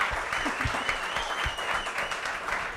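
Audience applause at an evening barbecue restaurant event hosted by FEEDSTORE BBQ, a steady dense wash of clapping lasting throughout, moderately loud and even, with a faint voice or two underneath.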